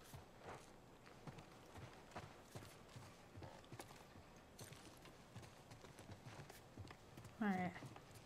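Hoofbeats from a horse in The Last of Us plod along in a short, steady clip-clop, moderately close and fairly soft, with a sharper tonal game sound near the end and a voice talking over parts of it.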